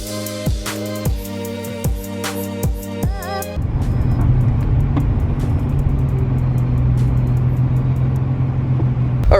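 Interior road noise inside an Infiniti G35 on the move, a steady broadband rumble and hum that sets in after a few seconds of rhythmic background sounds and stays constant and fairly loud, with no one speaking.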